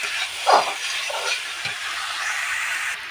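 Boiled banana flower and potatoes fry in a hot pan, giving a loud, continuous sizzling hiss close up, with a brief stir or clatter near the start.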